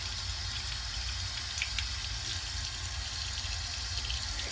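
Steady wash of running water from a tap while a face is rinsed, a continuous hiss with low rumble throughout, fairly faint and without talk.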